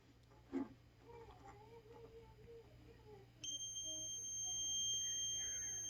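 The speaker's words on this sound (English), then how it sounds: "And we're getting a buzz, so the buzzer's working." A steady, high electronic buzz switches on partway through and holds continuously, faint and thin over low background hum.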